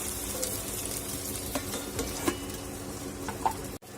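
Tomatoes softening in a little oil over a low flame, a quiet, steady sizzle with a few soft stirring scrapes and taps, ending in a brief dropout; no speech.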